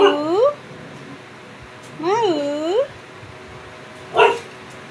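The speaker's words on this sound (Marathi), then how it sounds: "माऊ, माऊ, पिल्लू." A puppy lets out high yelping barks and whimpers, three short bursts with pauses between, close and clear.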